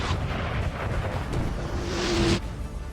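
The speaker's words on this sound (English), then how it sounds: "Nice artillery shots there from France" Artillery fire in the Napoleon: Total War battle game, a dense rumbling barrage of cannon blasts with a rising whoosh near the end, loud and continuous with no talk over it.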